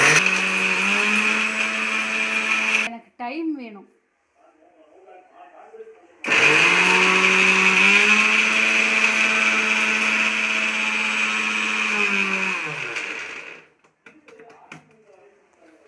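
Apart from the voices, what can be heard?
mixer grinder grinding spices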